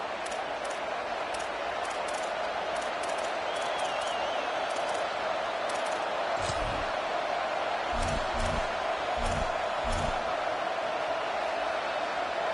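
Dense, steady stadium crowd roar in a college football video game, Oklahoma versus USC, loud and continuous throughout with a few low thumps and brief sharper accents.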